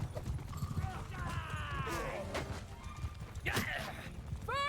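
Horses gallop in a medieval battle in the video game Bannerlord, a rapid clattering of hooves under shouting voices and a sharp neigh-like cry near the end.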